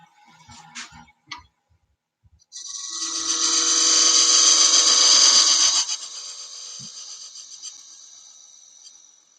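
A power sander on a wooden turned box whirs steadily for about three seconds, then winds down, preceded by a few light taps and knocks.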